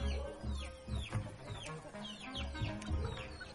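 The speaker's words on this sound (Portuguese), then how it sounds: "Esse é o meu maior galo índio gigante de 2025." A giant Indian rooster (galo índio gigante) clucks softly in a run of short, repeated calls, fairly faint, with low rumbling background noise and no talk.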